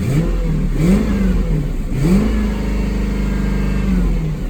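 A 1UZ engine revs up repeatedly, rising and falling in pitch a few times, then holds a steady idle with no knocking, loud and close.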